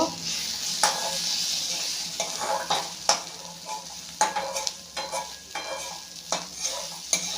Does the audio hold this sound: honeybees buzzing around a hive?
no